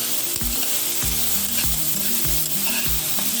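Chopped garlic lightly frying in oil in a pan for pasta, a steady close sizzle with repeated scraping stirs roughly every half second, alone with no voices.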